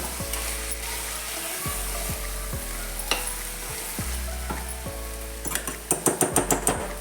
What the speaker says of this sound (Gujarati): હવે આ બધો મસાલો આપણે અંદર એડ કરી દઈશું બધું સારી રીતે મિક્સ કરી દઈશું આપણે